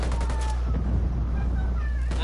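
Gunfire in a Ghost Recon PvP ranked 4v4 match: sharp shots crack near the start and again near the end over a steady, dense battle-noise background.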